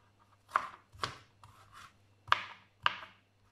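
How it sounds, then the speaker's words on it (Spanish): A knife chops vegetables into small cubes on a cutting board for a vegetable pâté, giving five crisp, separate cuts in an uneven rhythm, close and fairly loud over a low steady hum. "lo vamos cortando cuadritos pequeños"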